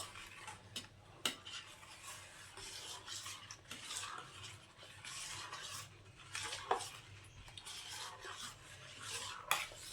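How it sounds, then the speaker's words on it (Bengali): A spoon stirs kheer filling for patishapta, made with jaggery, in a pan, a quiet repeated scraping and swishing with occasional sharp clinks of utensil against metal, close up and with no talking. "এবার এটাকে ভালো করে নাড়িয়ে নেব।"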